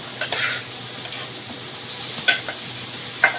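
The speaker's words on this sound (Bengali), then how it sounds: "লবণ হলুদ মাখানো এইটা একটু হালকা নাড়াচাড়া করে ভেজে নেব" Prawns coated in salt and turmeric frying in a pan, a continuous sizzle with a few gentle stirring scrapes and soft clinks of the spatula, close and with no talking.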